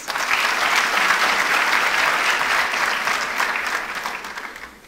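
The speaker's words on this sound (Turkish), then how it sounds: "Alkışlarınızla yerlerine uğurluyoruz." Sustained audience applause at a Turkey youth summit award ceremony, a dense wash of many hands clapping that holds steady before tapering off slightly at the end.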